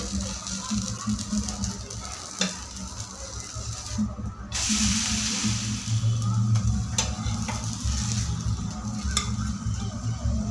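Wheat flour dhirde sizzling on an oiled griddle while being flipped, with a steady close frying hiss, a louder burst midway as the batter turns, and someone speaking briefly over it.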